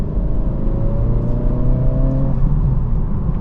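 Engine of a 2025 Honda Civic Si sport compact sedan revving, a close steady whirring drone with a rising tone that then settles, heard from inside the car with no talking.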